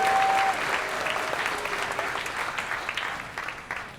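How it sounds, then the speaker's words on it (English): A concert audience at OC Music Pier bursts into loud, dense applause for a performance, which gradually tapers off over a few seconds. "Give yourselves a big round of applause."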